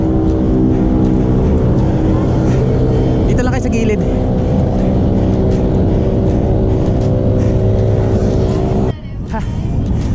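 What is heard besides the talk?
car traffic on EDSA flyover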